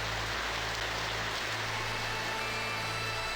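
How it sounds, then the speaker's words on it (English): Played-back rain, a dense, steady hiss of falling drops with a low hum beneath it, continuous and fairly loud with no talking. "Let's make sure you hear the rain over everything else."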